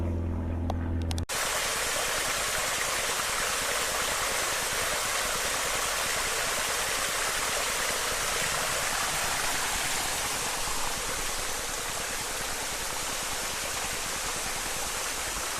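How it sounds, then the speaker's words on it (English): A constant, dense roar of falling water from Tillingbourne Falls, an 18th-century man-made waterfall, fills the scene, steady and broadband, starting abruptly after a brief quieter moment. "Tillenbourne Falls, man-made waterfall."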